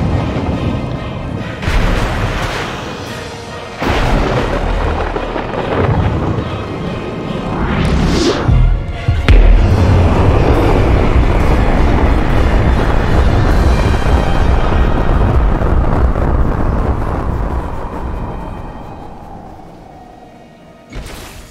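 Lightning crashes in Final Fantasy XV, with sharp booming cracks followed by a long, loud, rumbling roar that slowly fades out over many seconds, heard alone without talk.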